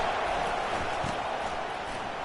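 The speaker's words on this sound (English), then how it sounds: "Listen to this crowd just shaking the girders of this place" Stadium crowd roaring in an American football video game, a steady dense wall of cheering noise held throughout without breaks.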